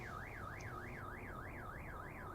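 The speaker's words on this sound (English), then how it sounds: "Just as the alarm ends, I see the car it was coming from." A video game car alarm wails in a steady rising-and-falling electronic siren, cycling evenly without a break, somewhat quiet and distant.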